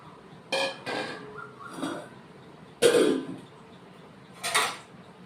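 Fried dried fish (shutki) being tipped into a pan of cucumber and potato: a few separate clattering scrapes and knocks against the pan, with a louder clank in the middle, near and without talk.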